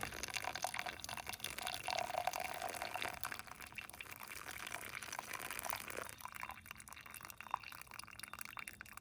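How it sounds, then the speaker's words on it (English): Coffee is poured outdoors at a camp into a titanium cup, a faint, steady trickle of liquid that fills the cup over several seconds before stopping, with no talking. "Let's pour some coffee."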